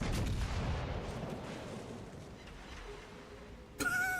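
Naval gun salvo in World of Warships: Legends, heavy booming cannon fire rolling through the opening seconds, fading into a low rumble before game interface tones break in at the end.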